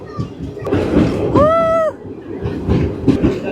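A train rolls over the new Pamban bridge beside the sea, its loud steady rumble and rattling wheels running throughout, joined midway by a rising and falling tonal whine lasting about half a second.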